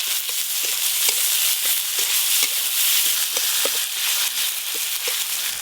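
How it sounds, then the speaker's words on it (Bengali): Chopped onions with green chillies and a dried red chilli fry in oil in a pan, making a loud, continuous sizzle broken by regular small clicks and scrapes of stirring, with no talking. "পেঁয়াজ কুচিগুলো একটু লাল লাল করে ভাজা হয়ে গেছে।"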